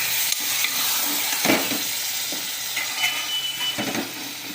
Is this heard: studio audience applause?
no